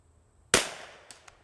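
A single sharp rifle shot cracks out at an outdoor shooting range, loud and close, with a decaying echo trailing off and two fainter distant reports following moments later.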